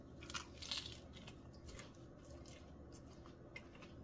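Someone bites into a well-done, slightly overcooked Taco Bell Cheesy Street Chalupa, giving a few crisp, close crunches followed by quieter chewing, with no talking.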